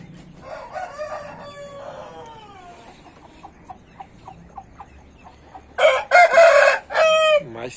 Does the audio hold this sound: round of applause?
no